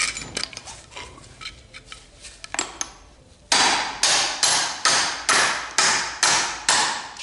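Hammer blows knock a universal joint cap out of a rusty driveshaft yoke: after some lighter clinks, eight hard, evenly spaced metallic strikes ring out close and loud, each with a short ringing decay.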